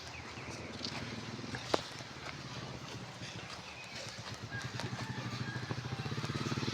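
A motorcycle on a quiet rural village path runs with a low, rhythmic engine thrum that grows steadily louder toward the end as it draws near, with one sharp knock partway through.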